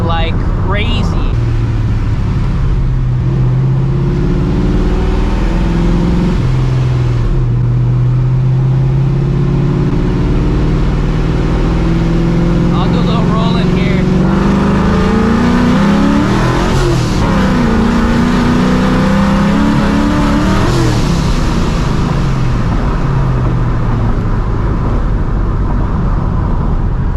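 A cammed, Procharged 1999 Mustang GT with a swapped 5.4 2V engine making 600 hp revs loudly and close, its rough idle climbing into rising, whining sweeps before settling, with voices talking over it.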